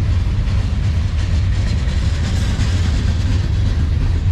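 A CSX freight locomotive on a manifest train winds up its engine and pulls away, a loud steady diesel roar with heavy low rumble and rail noise filling the whole stretch, no voices.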